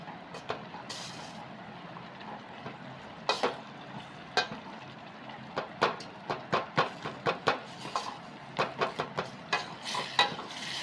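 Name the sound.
Maggi noodles cooking in a pot on the gas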